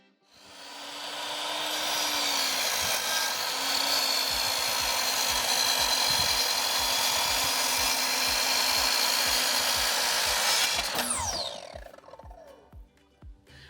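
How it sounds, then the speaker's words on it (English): Power tools cut wood continuously on an off-grid Tennessee homestead, a loud sustained whine and rasp with a running motor tone, winding down near the end. "while we're cutting up all this wood, powering all these different power tools"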